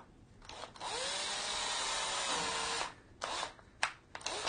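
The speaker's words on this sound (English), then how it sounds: "You're going to drill a hole all the way through that" A cordless drill whines steadily for a couple of seconds as it bores a hole for a spring pin in a kettlebell, then stops, followed by a few short bursts of drilling.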